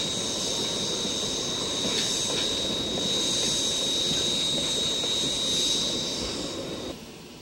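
A Heisler geared steam locomotive on the Cass Scenic Railroad in autumn makes a steady, loud mechanical roar with a high whine running through it, sustained for several seconds before easing off slightly at the end.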